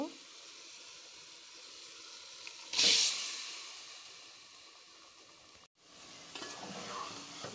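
Taro leaves sizzle and hiss in a frying pan while being stirred, a steady low crackle with a sharp loud burst of hissing partway through, then a brief drop before the frying resumes.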